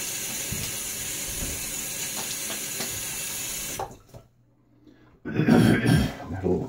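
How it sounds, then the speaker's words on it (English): Water from a running tap splashes onto a face before a wet shave, a short burst of splashing at a sink, then a pause and a louder rush of water, with a man clearing his throat. "now a little water on my face"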